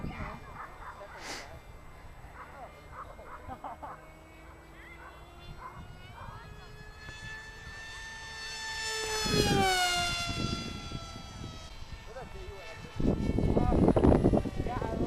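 A lipo-powered electric RC plane makes a low, slow pass. Its motor whine grows louder as it approaches, peaks with a sharp pitch drop as it passes overhead, and is followed by louder broadband noise.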